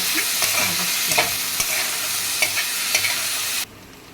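Chopped tomatoes with salt frying in a pan, a steady close sizzle broken by repeated scraping strokes of a spoon stirring, ending abruptly.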